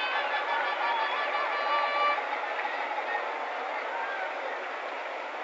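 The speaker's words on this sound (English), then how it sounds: "And his crowd comes alive." Baseball crowd at the 1964 World Series between the Yankees and Cardinals, roaring and cheering steadily throughout as a distant, dense wash of voices heard through an old radio broadcast.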